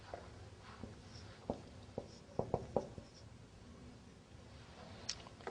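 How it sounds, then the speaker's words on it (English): Marker or chalk writing on a board during an Arabic lesson: a few soft, scratchy taps and strokes clustered together, faint and close, with quiet room hiss and no talking. "let me write it down"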